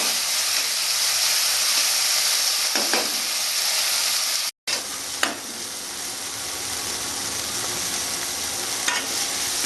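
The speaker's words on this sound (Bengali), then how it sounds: "আমি নুন হলুদ মেখে রেখে দিয়েছিলাম মাছটা আমি ভেজে নেব" Fish rubbed with salt and turmeric frying in a pan for a Bengali lau chingri dish: a loud, continuous close sizzle, briefly cut by a short gap, with a couple of soft stirring knocks.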